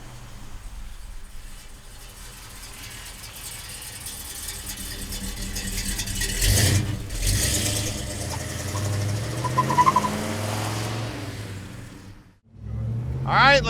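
A 1966 Chevrolet Chevelle convertible with a big block engine idles with a low rumble, then revs up and settles, close by, with a voice talking over part of it.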